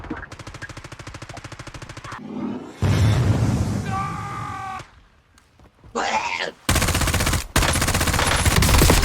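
Rapid automatic gunfire from a Call of Duty match comes in repeated bursts, with loud blasts and game sound effects between them and occasional voices over the top.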